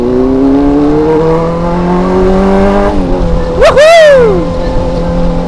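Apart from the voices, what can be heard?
Honda CBR 600 motorcycles racing on street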